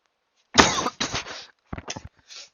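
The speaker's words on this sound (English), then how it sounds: "Sorry for my cough, I've been having a cold lately." A few harsh coughs from someone with a cold in quick succession, close and fairly loud, followed by smaller coughing bursts with short pauses between them.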